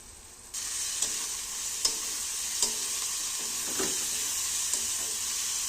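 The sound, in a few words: frying onions and spices in a pan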